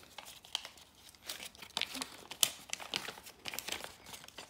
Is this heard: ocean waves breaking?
no